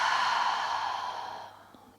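A long, slow exhale from a yoga breathing exercise, a soft breathy rush that fades gradually over about a second and a half, close and alone.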